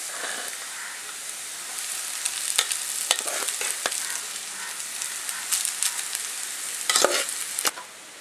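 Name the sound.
stirring rice with fried vegetables in pan for fried rice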